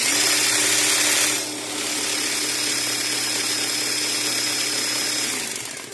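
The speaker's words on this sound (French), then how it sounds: "Le premier essai que nous allons effectuer, c'est avec une carte 20 volts, avec un moteur 40 volts de ce Taiheui." A 40 V brushless motor spun by a 20 V grinder control board runs with a steady, close electric whine and a thin high tone, dipping briefly near the start before holding even to the end.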